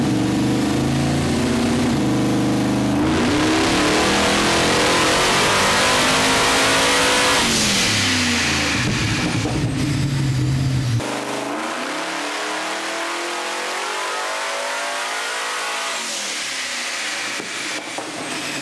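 On a dyno, a car engine is run up hard toward about 6,500 rpm, a loud sustained roar that climbs in pitch through repeated long pulls, then drops back as the revs fall.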